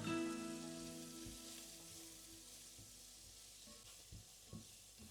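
Chopped onion frying in beef drippings in a pan gives a steady close sizzle and crackle, with a couple of soft stirring knocks near the end and no talking.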